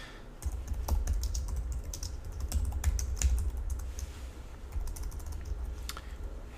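Rapid, continuous clicking of keys on a computer keyboard, close and steady, over a low background hum.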